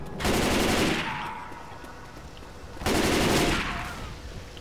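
A mounted machine gun in the zombie shooter Left 4 Dead fires two long continuous bursts with a short gap between them, loud and close, while a voice speaks briefly.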